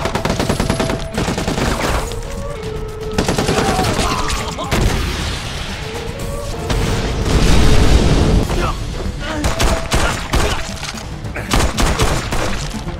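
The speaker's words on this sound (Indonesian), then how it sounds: "Kemudian terjadi saling tembak." Gunfire and explosions in an action film shootout, bursts of rapid shots and heavy booms over a musical score, with a voice talking throughout.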